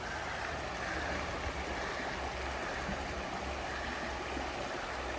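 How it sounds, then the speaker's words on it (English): A small river flows beneath a metal-roofed covered bridge on a New England fall road trip, giving a steady, even rush of moving water that holds constant throughout, with no voices. "That's a lovely little river underneath."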